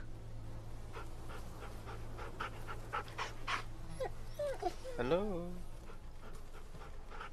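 In The Walking Dead video game, a dog pants in quick rhythmic breaths up close, then lets out a few whimpers and a high whine. A voice speaks briefly.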